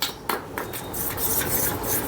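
A curd and cluster bean curry is stirred in a pot, giving repeated scraping and rubbing strokes of a spoon against the metal, close and steady with no talk.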